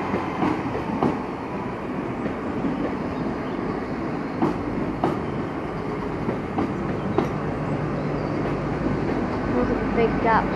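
Train at Paignton station in Devon, a steady rumbling hum of railway carriages with faint clicks and squeals, a voice speaking briefly over the continuous rail noise.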